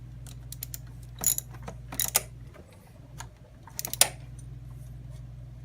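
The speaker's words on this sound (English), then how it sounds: "I gotta torque them all down." A ratchet tightens the alternator bolts on a Honda Goldwing GL1800 motorcycle, giving short bursts of clicking in separate groups over a low, steady background hum.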